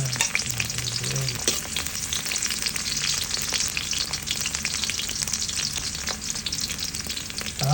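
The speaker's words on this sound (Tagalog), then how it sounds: "ilalagay muna natin itong mantika, tapos itong bawang naman" Minced garlic fries in hot oil at the start of a chicken adobo, a dense, constant close sizzle with light stirring and no speech.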